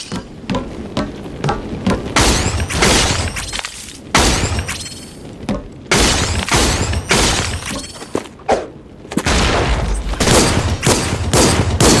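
Gunfire in the video game Gunnhildr, loud and close, with heavy overlapping volleys and single shots going off through the whole stretch. Sharp, shattering impacts and booming thuds mix in with the shooting.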